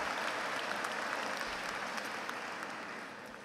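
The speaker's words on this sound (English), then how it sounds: "You can clap now, UVA." A large graduation audience claps at an MBA commencement ceremony, a steady wash of applause heard from a distance that fades slightly at the end.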